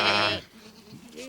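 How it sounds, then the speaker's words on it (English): A sheep gives one loud, close bleat, followed by quieter, fainter bleating. "And so the shepherd, with some help from the sheep and their really big cousin Norman, saved the day."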